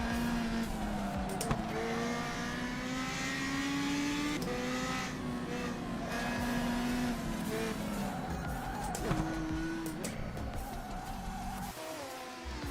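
Race car engines roar in the rFactor 2 racing sim, a steady high-pitched drone with shifting gear tones and brief tire squeal, continuous and loud for the whole stretch before dropping off at the end.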